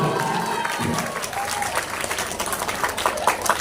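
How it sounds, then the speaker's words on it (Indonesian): Dense, steady audience applause following a children's performance at a Maulid Nabi religious gathering, a large crowd clapping continuously at even loudness throughout. "Kita berikan aplaus, tepuk tangan buat mereka"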